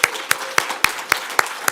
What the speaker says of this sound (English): So just a quick round of applause to Chiara.